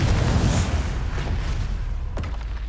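A Confringo spell detonates in a video game, a loud, heavy booming blast with deep low rumble that rolls on, with a sharp crackling burst near the end.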